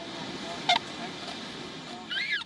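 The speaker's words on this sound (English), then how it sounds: "They have confined birds across the country, including these ones at a canal in Bruges." Confined swans by a canal in Bruges give a few short nasal honks, faint and somewhat distant, over a steady outdoor background hum.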